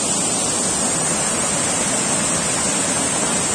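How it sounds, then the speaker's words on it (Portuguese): A full waterfall over many rocks roars in a dense, constant rush of white noise, close and loud, with no voices. "a cachoeira tá bem cheia mesmo"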